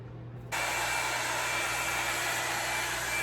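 A Revlon One Step Dryer and Volumizer switches on after a brief quiet hum and then blows steadily and close by, a constant whooshing rush of air with a faint motor whine that continues unbroken to the end.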